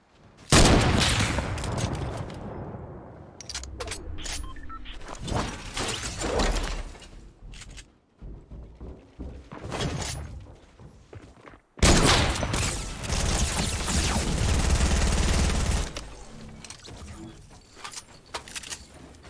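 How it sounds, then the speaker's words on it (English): Gunfire in the Fortnite video game, with repeated sharp shot bursts and rapid fusillades crackling loudly in clusters, separated by brief quieter gaps. "They sniped at me from over there."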